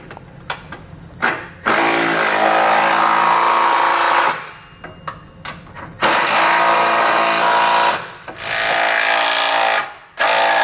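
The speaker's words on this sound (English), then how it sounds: "We can now go back and tighten down all of our hardware and then torque it to the specifications found in our instructions." A power tool runs in long loud bursts while bolts are driven and tightened with 13mm and 19mm sockets on a tow base plate for a 2019 GMC Acadia, separated by shorter clicks and rattles.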